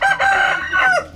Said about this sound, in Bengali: মোরগ বার্মিজ মোরগ কিভাবে ডাকছে দেখছেন